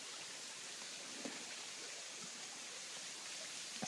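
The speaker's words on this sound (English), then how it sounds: "we found Dellinger Creek Falls" Dellinger Creek Falls pouring into a large grotto, a steady broadband rush of falling water, constant and even throughout, with no voices.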